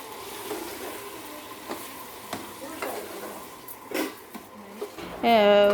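Vegetables and cashews sauté in a pan for white kurma, giving a steady low sizzle with occasional stirring clicks and scrapes, close up, and a brief brighter clatter near the end.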